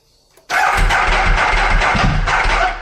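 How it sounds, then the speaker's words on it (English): A Ducati 1198S Corse superbike fires up after a short quiet starter crank and settles into a loud, steady, lumpy idle that holds close and continuous to the end. "So I'm just going to do a quick check that it actually starts up."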